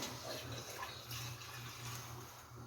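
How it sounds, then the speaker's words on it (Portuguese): Water poured into a pot of rice cooking for baião de dois, a steady broadband splashing stream running close and fairly loud for the whole stretch, with no talk over it. "vou pôr um pouquinho mais de água, porque tá faltando"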